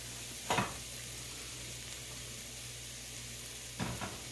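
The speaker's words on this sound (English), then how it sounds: "I'm going to go ahead and take and put my roast back in here" Steady, quiet sizzling of a beef roast in a pot with blooming spices for green chili, broken by two brief clunks of the meat and utensils.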